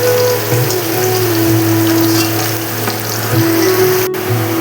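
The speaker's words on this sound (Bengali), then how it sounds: "বন্ধুরা মোচার রাজকন্যাগুলি তেলে একে একে ভেজে নিচ্ছি" Banana flower rolls frying in mustard oil, a steady dense sizzle with a few faint pops, close and continuous under a low kitchen hum.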